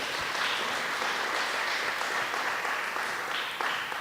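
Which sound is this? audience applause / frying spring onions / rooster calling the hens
audience applause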